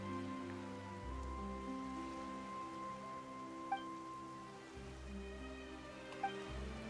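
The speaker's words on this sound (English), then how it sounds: "Why is it raining all of a sudden?" Steady rain falls in the Fontaine region of the Genshin Impact video game, a soft, continuous patter under low sustained music with occasional faint chimes.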